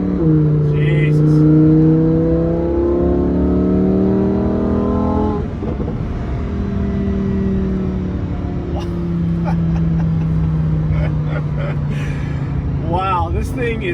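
A 2019 Lamborghini Huracan Performante engine rises in pitch through the gears while driving, rising whine cut by a shift, then building again, close and loud inside the cabin with a voice briefly over it.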